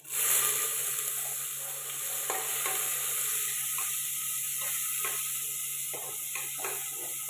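Onion frying in hot oil with bay leaf, cloves, black peppercorns and cinnamon for a village-style mutton rassa, a steady close sizzle with occasional stirring scrapes and clicks.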